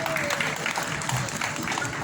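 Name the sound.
applause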